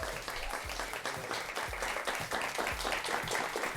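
A round of dense, sustained applause for the coach of the year at a quiz bowl event, many hands clapping steadily at a distance for several seconds.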